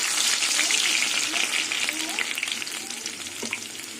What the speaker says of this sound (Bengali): তেল গরম হয়ে গেছে কালো জিরে ফোড়ানো দিয়ে দেবো